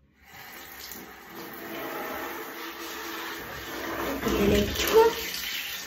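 Lukewarm water runs from a shower tap into a small basin for bathing a dog, a steady rushing stream that grows fuller and closer, with someone briefly speaking over it.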